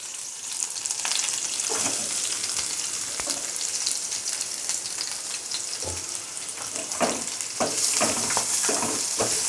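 Onions sautéing in a pan until golden brown, a steady loud sizzle and crackle with occasional scrapes of a spatula stirring, no talking.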